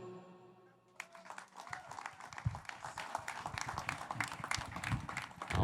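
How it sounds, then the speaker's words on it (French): Audience applause at the launch of the SHCN, steady clapping from a crowd that swells and holds after a quieter moment, with a few voices mixed in. "une grande, grosse main d'applaudissements"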